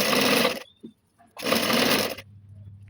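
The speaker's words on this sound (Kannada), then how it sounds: "ಡಬಲ್ ಸ್ಟಿಚ್ ಹಾಕ್ಕೊತಾ ಇದ್ದೀನಿ." Sewing machine double stitching dress pants: two loud, fast bursts of rattling stitching about half a second each, separated by a brief pause, with a low hum afterward.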